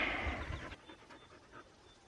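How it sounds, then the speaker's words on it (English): Dogs pant outdoors in the bush, quick rhythmic breaths close to the microphone after a brief rush of wind or movement noise at the start, with no talking. "I'm out here with my dogs today"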